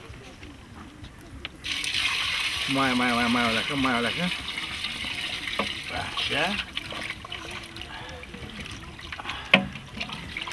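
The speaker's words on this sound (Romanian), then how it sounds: "Mai toarnă puțin apă aici." Water poured into a pot for a fish dish being cooked outdoors at a fishing pond, heard as a sustained gushing pour up close while several people talk over it.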